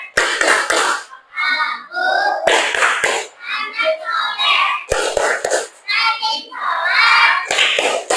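A group of children chants the Indonesian "tepuk anak soleh" clapping chant together, clapping in rhythm, claps falling in short bursts between the voices, loud and close, in a classroom.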